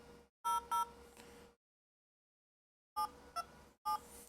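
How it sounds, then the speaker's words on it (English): Phone keypad tones ring out as a number is typed on a speakerphone: a pair of quick beeps, a pause of silence, then three more short tones, each crisp, close and clipped. "I gotta type the phone number."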